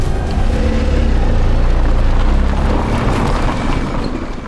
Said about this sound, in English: It sounds like a 4-cylinder.